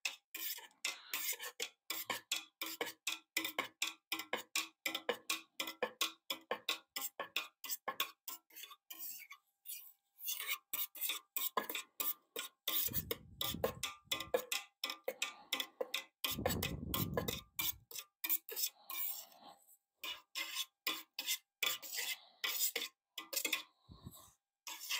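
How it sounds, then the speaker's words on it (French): A knife cuts set cheese curd into small cubes while making a homemade tomme, producing a long run of quick, regular, faint ticking strokes with a few brief pauses and no talk. "Donc maintenant, je vais le couper en petits cubes."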